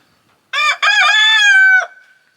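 A single loud, close rooster crow rings out from a coop housing four hens and one rooster, a short opening note followed by a long drawn-out call that ends abruptly.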